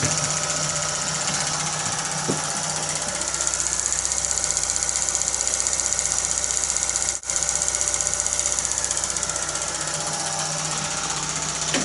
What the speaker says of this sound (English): as you can see, it is projecting a film